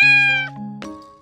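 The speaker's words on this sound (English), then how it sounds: "Bad cat." A cat gives a single clear, drawn-out meow, close and loud, with the tone dropping and wavering partway through before trailing off.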